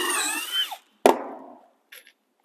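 A drill whines as it bores a hole through plywood while pocket door kit panels are being stacked and joined, a rising spin that stops, then a sharp knock and a brief, faint whir.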